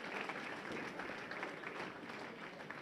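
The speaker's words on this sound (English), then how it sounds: "how about a round of applause for our U.S. Amateur champions, Chris Vai, Stephanie Schwartz" Steady, dense applause from an audience at the 2016 U.S. Amateur Championships bowling stepladder finals, honoring the amateur champions; a continuous soft wash of many hands clapping, fairly faint and even throughout.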